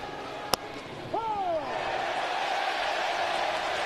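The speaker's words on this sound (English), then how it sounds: "Nice round of applause." Crowd at a Phillies–Nationals baseball game at the stadium, a sharp crack followed by a rising wash of steady applause and cheering that holds at a moderate distance to the end.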